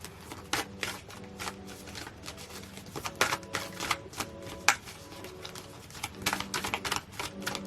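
Tarot cards are shuffled repeatedly up close, a rapid papery riffling and tapping in irregular bursts.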